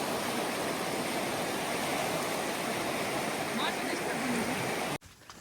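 Plentiful water rushes in a steady, loud roar along a difficult road near the Dhareshwar temple, a continuous wash of sound that cuts off abruptly near the end.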